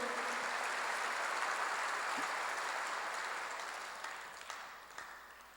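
Congregation applauding in a church, a dense broadband wash of clapping that fills the room and holds steady before thinning out toward the end.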